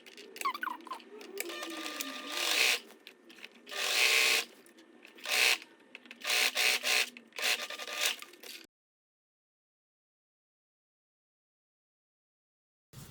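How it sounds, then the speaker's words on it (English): A sewing machine stitches the side seam of a drop-waist Basque skirt in several loud, steady bursts of varying length, each stopping briefly before running again, then the machine falls silent for the last few seconds. "sew them together with a 2 centimeter seam allowance. Start sewing from the slit mark down."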